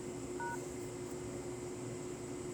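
Telephone keypad DTMF tones sound during a call to a hotline menu while a number is being entered. A single short two-tone beep is heard, faint, over a quiet line hiss.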